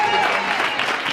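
A Sunday church service congregation claps hands loudly and continuously, a dense wash of applause filling the room.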